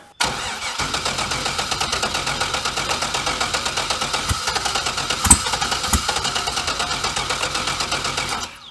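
A BMW E39 with a swapped-in LS V8 cranks over and over, struggling to fire with a steady, rhythmic starter churn. It is loud and close, with a couple of sharper knocks near the end and no voices.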